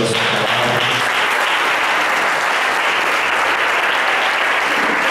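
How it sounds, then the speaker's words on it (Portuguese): Sustained applause from a church congregation at a Sunday morning service fills the space, loud, dense and steady throughout, with no voices rising above the clapping. "Você pode aplaudir a Deus pela sua palavra?"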